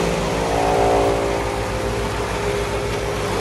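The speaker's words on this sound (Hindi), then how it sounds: "और ये हमारा ट्रैक्टर वाला मशीन है, जो कि इस तरह से चलता है" A tractor-driven chaff cutter on a dairy farm in Surat, Gujarat runs with a loud, steady, rhythmic engine thrum and mechanical drone, heard close up without talking.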